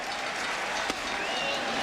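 A big crowd at Yankee Stadium during the final game there in 2008, a steady dense roar of cheering and applause throughout, loud and continuous with one brief sharper clap near the middle.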